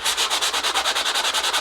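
A hand sanding pad with a Velcro backing rubbed back and forth over a surface in quick, even strokes, about a dozen rhythmic rasping passes, close and loud with no talking.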